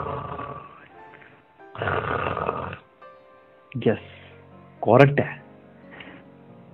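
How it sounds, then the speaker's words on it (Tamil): A person snoring, two rough, throaty snores with growling rattles that stand out sharply between bursts of spoken narration and a breathy noise, near and moderately loud. "இது தூங்கும் பொழுது ஏற்படக்கூடிய சத்தம், நிறைய பேரை டிஸ்டர்ப் பண்ணக்கூடிய ஒரு சத்தம்."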